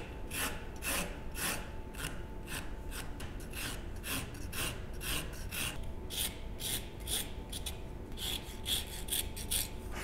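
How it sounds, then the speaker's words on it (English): Hand plane shaving wood end grain on a shooting board, a close run of quick rasping strokes in a steady back-and-forth rhythm. "you can just do them on the shooting board like this and just rotate the component as you go."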